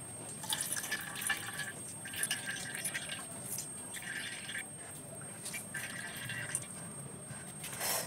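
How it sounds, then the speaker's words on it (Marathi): Water is squeezed out of chopped bitter gourd, producing faint intermittent dripping and trickling in short repeated bursts, quiet and close, with no talking. "आता आपण या कारल्यातनं पाणी पिळून काढूया."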